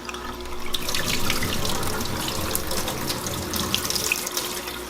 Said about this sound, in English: we're just going to run it under some hot water for a while, just to thaw it out